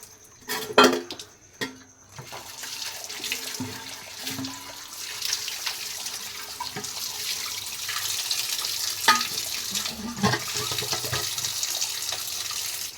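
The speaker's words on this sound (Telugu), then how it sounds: "నేను వాష్ చేస్తాను చూడండి" A copper water bottle rinsed under a running tap: steady, close water flow with metallic clinks and knocks of the bottle being handled, after a few louder bumps at the start.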